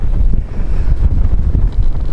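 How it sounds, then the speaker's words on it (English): Strong wind buffets the microphone on an exposed heather hilltop at Horse Stones Naze, a steady loud low roar with gusting pulses throughout and no voices. "I didn't expect it to be so windy as this"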